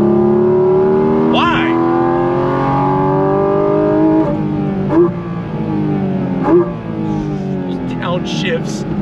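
A 2024 Porsche Cayman GT4 RS engine climbs hard in pitch through the gears, with sharp breaks at each upshift before the wail rises again, loud and close, with brief speech at moments.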